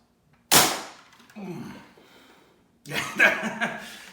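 A foam dart blaster firing black bamboo darts lets out one sharp close pop, then comes a short low rattle, with chuckling and voices afterward.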